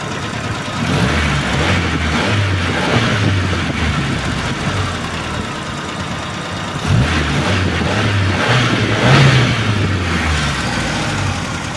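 A Ford Pampa car engine runs steadily at a low idle, a close rumbling drone that swells briefly with a couple of light revs, at the first start of the day after a rough-idle fault.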